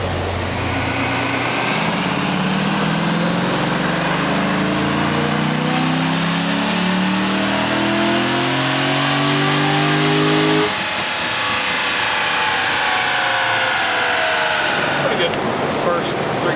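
A Procharged 2019 Camaro SS revs through a full pull: a loud, sustained engine roar climbs steadily in pitch with a supercharger whine, then cuts off sharply and settles into a lower rumble.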